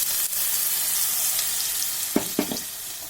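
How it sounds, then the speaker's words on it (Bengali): Carrot paste frying in ghee with whole garam masala in a wok over a gas flame, giving a steady close sizzle with a few brief stirring scrapes near the end. "গ্যাসে কড়াই বসিয়ে তাতে 1 চামচ ঘি আর গোটা গরম মশলা ফোড়ন দিয়ে আমি পেস্ট করে রাখা গাজরটা ভেজে নেব।"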